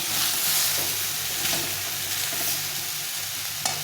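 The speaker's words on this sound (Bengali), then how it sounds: "দিয়ে আবার একটু নাড়াচাড়া করে সবজিগুলোকে ভেজে নেবো।" Vegetables for shukto stirred and fried in a pan, a steady broadband sizzle with occasional scraping stirs, close and continuous, no talking.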